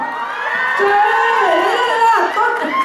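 Audience at a Hong Kong Cantonese music event cheering and shouting for a singer, a steady loud crowd roar with whoops and high excited voices throughout.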